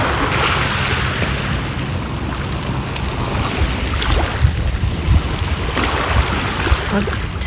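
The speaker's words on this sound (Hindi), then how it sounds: "जो जोरदार थी, जोर जोर की लहरें आ रही" Strong waves roll on Lake Ontario at Ontario Place, a continuous wash of water with surging swells and gusting wind buffeting the microphone.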